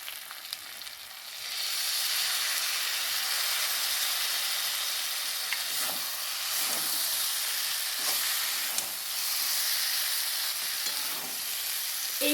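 Spice paste for an okra dish hits hot oil with a sudden loud sizzle that settles into a steady, close frying hiss, with occasional stirring scrapes.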